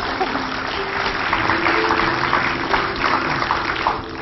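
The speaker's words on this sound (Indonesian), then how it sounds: "Tepuk tangan dong buat Kak Cika" A studio audience claps for Kak Cika on a television show, a steady, fairly loud wash of applause lasting a few seconds before easing off.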